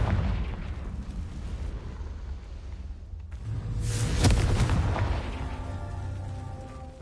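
A Confringo spell explosion in Hogwarts Legacy on PS5 goes off as a loud booming blast midway, with rumbling game ambience before and a lingering crackling decay afterward, no talk over it.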